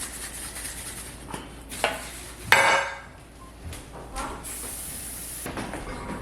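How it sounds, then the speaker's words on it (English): Cooking spray is misted into a baking dish for mac and cheese: a steady airy hiss running for a few seconds near the close, after some clinks and sliding of pans in a home kitchen. "I'm going to go ahead and spray this"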